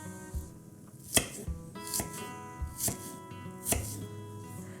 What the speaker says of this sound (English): So I'm just taking each strip and just cutting little pieces off.